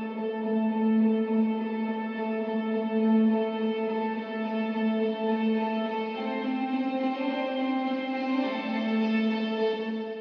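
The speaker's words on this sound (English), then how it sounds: "we have a guitar that comes in and it sounds like this." Electric guitar part inside a studio-produced track, drenched in echo and reverb, sustaining steady harmonic tones with a shift in pitch partway through, continuous and loud with no voices.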